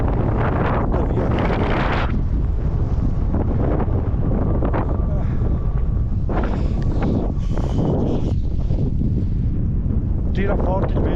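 Strong wind on a snowy mountain roars and buffets the microphone in heavy continuous gusts, loud and close throughout, with a voice briefly heard underneath.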